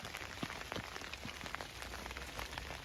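Rain falls in a garden on a cold January day, a steady, soft patter of drops striking nearby surfaces with scattered distinct taps and no talking.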